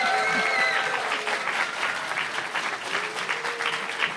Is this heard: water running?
no